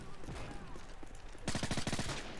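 Rapid burst of gunfire in Call of Duty: Modern Warfare 3, several close, loud shots in quick succession cutting in sharply after a stretch of busy game ambience.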